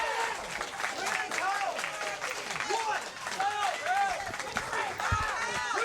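A wrestling crowd at an NWA Next Chance Rumble finals match roars steadily for Kyle Matthews, with sustained cheering, shouting and clapping throughout, dense and loud, under a commentator's continuous talking.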